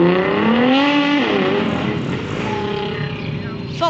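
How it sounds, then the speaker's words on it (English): A Nissan GT-R accelerates hard past at a roadside gathering by the Dovecote Inn, the engine note climbing in steady rising harmonics, loud and close, then dropping as it pulls away, with crowd voices faintly underneath. "Here goes the GTR."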